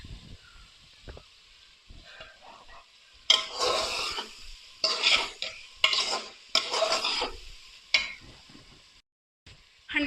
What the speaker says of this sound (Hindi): सब मसालों को अच्छे से भुनाई करेंगे इनकी।